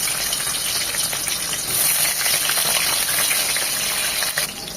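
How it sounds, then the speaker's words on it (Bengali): Cut potatoes fry loudly in oil in a pan for a vegetarian winter-vegetable dish, a dense continuous sizzle close up with a brief surge midway and no talk over it. "আলুটা এক মিনিট ভাজবো"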